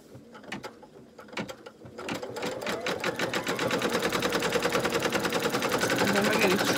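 An embroidery sewing machine stitches fabric scraps down on a coaster, starting with a few separate clicks and then settling into a fast, steady mechanical chatter that grows louder and denser, close up and without talk.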